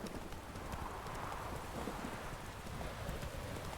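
Geralt's horse Roach gallops in The Witcher 3, a steady rapid drumming of hooves over a constant rush of wind and movement, close and even throughout, with no talking.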